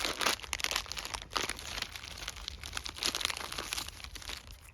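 Plastic packet from an American MRE ration crinkling and rustling continuously as it is torn open and handled, close and fairly loud, with no talking.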